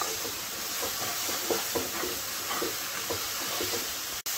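Spice paste sizzling while frying in a pan for fish roe fritter kalia, with fried potato pieces going in. A steady close hiss with soft rhythmic stirring scrapes and one sharp click near the end.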